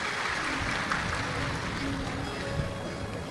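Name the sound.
audience applause welcoming the hosts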